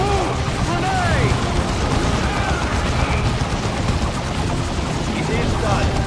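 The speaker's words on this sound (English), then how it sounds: "Grenade!" Grenade blasts and rattling gunfire in the video game Dawn of War II, a dense continuous battle din with booms and bursts layered together, while voices shout over the combat.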